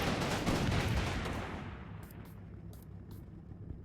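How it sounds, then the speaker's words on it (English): Explosions and gunfire in the WWII video game Combat Mission Battle for Normandy: a loud dense burst of blasts and rattling fire fading into a quieter rumble with a few distant sharp pops. "What the hell keeps exploding over there?"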